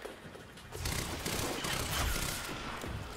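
Bursts of gunfire from the video game Quantum Break, a dense volley of shots that swells after the first second and holds steady and loud to the end, with no talking.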